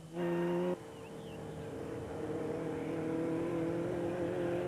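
Off-road race cars compete in the Gilboa 250, with a steady engine drone and rumble lasting throughout and a brief louder tonal whine at the start.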